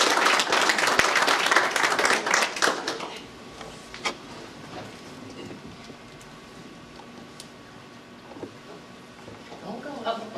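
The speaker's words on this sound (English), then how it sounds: "as you all applaud, let's applaud together" Audience applause at a ribbon cutting, a burst of clapping for the first few seconds that fades out, followed by a quieter room with scattered sounds and faint voices.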